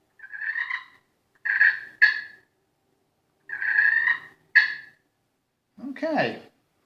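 Slate-over-wood turkey pot call giving rolling purrs and sharp single clucks, close and clear, in spaced bursts, with a short sliding note at the end.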